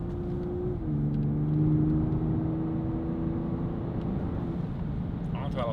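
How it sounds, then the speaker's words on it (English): Close engine and exhaust noise under load from a BMW X7 40i family SUV with valved exhaust, holding a steady throaty drone with a slight rise in pitch as it accelerates. "On throttle sound is really good."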